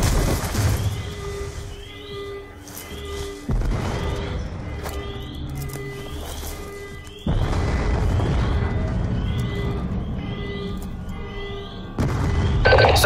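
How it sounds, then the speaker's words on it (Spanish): Repeated explosions from the Call of Duty Black Ops 2 video game, set across a compound, with loud booming bursts at intervals over a continuous rumbling backdrop of game sound. "Detectamos explosiones múltiples por todas las instalaciones."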